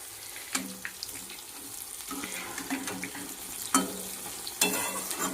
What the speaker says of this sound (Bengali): ওর মধ্যেই বেগুনি ভাজছি